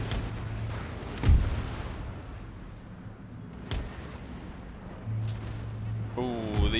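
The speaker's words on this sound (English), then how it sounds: "Oh, these cannons." Cannon fire in Empire: Total War, a few deep booming shots spaced apart amid battle ambience, with people talking over the scene.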